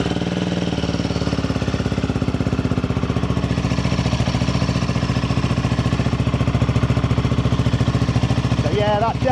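Royal Enfield Himalayan 450 single-cylinder engine fitted with a D-Cat link pipe, idling steadily with a loud, throaty, even pulsing beat close by for the whole stretch.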